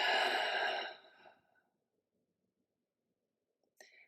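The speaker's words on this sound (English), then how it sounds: "Take a deep breath in" A single deep, slow exhale, breathy and fairly close, fades away into near silence, followed by a brief faint click or breath at the end.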